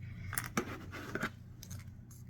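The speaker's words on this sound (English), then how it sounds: "I'll show you the other side with the scissors." Scissors snip through a popsicle stick a few times with short, crisp cuts, close and quiet against faint background hum.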